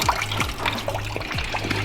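Water flowing through the cooling system of a 1980 VW Rabbit Pickup during a coolant flush, a steady trickle and gurgle with low, sliding tones rising and falling over about two seconds.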